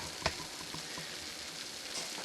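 Cabbage and sausage sizzle in a pan with a steady, close frying hiss, broken by a single sharp clink early on; no one speaks.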